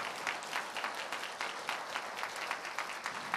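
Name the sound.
audience applause at a graduation ceremony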